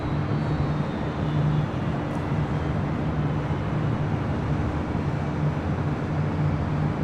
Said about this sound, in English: That was United Airlines Flight 387 coming from Vancouver in that A320